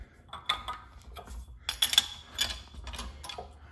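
A hand-cranked press clicks and ratchets in short, irregular metallic bursts as it pushes down on a Mustang transmission assembly, faint and close with quiet gaps between the clicks.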